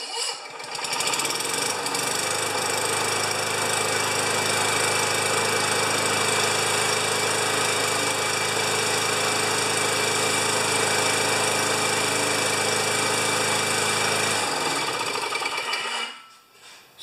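A 29-year-old Rally electric start lawn mower engine cranks over, then runs in a loud, close, steady rattling drone with a strong low hum. It cuts off near the end. No one speaks.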